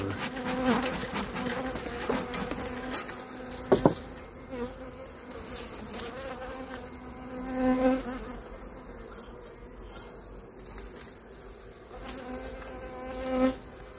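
A dense, populous honeybee colony hums steadily up close, with a continuous layered buzz and a few louder swells as individual bees pass near, and no talking.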